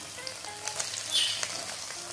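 Shredded cabbage hits a hot pan and fries with a soft, steady sizzle at close range, a few faint crackles rising over the low background, with no voices.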